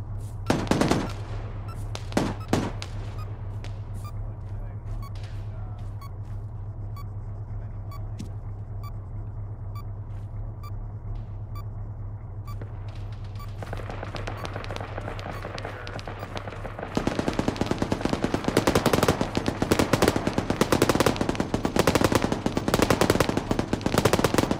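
Machine-gun fire from a forest, opening with a few sharp bursts, then a stretch of steady low rumble, then heavy sustained automatic fire, loud and continuous, over a constant engine-like drone.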